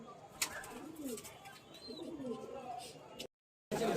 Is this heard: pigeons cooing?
yes